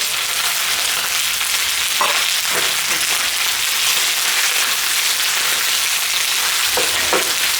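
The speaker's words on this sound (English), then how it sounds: "Let the oil also blast some of that garlic flavor out of the garlic pieces." Garlic cloves frying in hot oil give a steady, loud sizzle that runs throughout, with a few faint stirring clinks and no voices.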